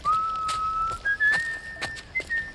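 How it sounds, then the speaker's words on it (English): A character whistles in The Last of Us Part 1: Left Behind, producing a clear, close, sustained tone that shifts pitch in short phrases over a quiet background. "She whistling back there"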